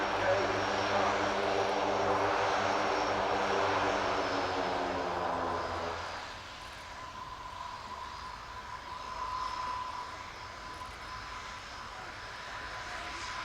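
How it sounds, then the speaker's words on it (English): Turboprop engines of an Italian Air Force Alenia C-27J Spartan in a flying display at RIAT, a loud droning roar with a pulsing propeller whine that fades as the aircraft passes, steady outdoor air noise following. "completing their sequence on the Alenia C-27J Spartan"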